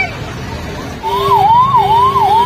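Ambulance siren on a crowded Rath Yatra night near the chariots, a loud wailing tone rising and falling in quick cycles over busy crowd noise and murmuring voices.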